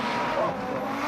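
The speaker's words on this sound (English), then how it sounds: "The five-cylinder sound leaves nobody cold." An Audi RS4's five-cylinder engine gives a loud, steady, broadband roar that holds without a break through the short moment.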